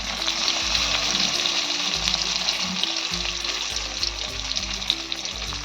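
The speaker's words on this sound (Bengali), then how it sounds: "আলুগুলো আমি তেলে ছেড়ে দেবো। তেলটা খুব বেশি গরম করার দরকার নেই।" Half-raw stuffed potatoes frying in moderately hot oil, a steady close sizzle and crackle that runs continuously with faint clinks underneath.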